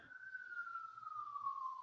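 A single faint, distant emergency vehicle siren in New York City holds a long, slowly falling wail over about two seconds, with a low background rumble.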